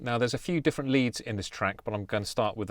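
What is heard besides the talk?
No distinct noise like a dog, phone or traffic.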